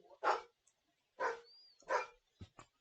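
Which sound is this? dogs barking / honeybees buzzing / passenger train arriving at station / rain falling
dogs barking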